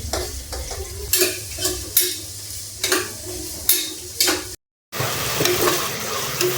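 Oil sizzles and crackles in a pan as spices are tempered for rice, while a utensil stirs in regular scraping strokes, with a brief cut to silence before the sizzling continues.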